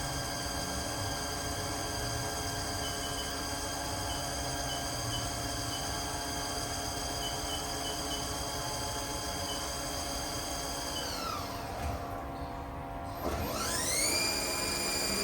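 Haas TL-2 toolroom lathe from 2010 with its spindle turning at 1,000 RPM, a steady machine whine layered with tonal harmonics and broadband hum that dips briefly near the end before spooling back up.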